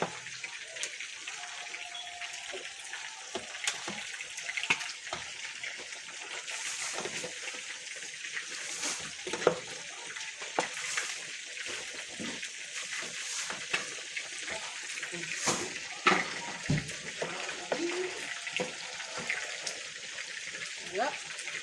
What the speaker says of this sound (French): On va mettre un peu de bouillon.